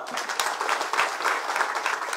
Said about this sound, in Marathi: जयाभाऊंच्यासाठी जोरदार टाळ्या वाजवा